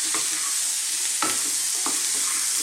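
Tofu pieces stirred through spices in a hot pan for an Indian vegan curry, a steady sizzle of frying with three distinct scraping stir strokes, close and loud, no talking.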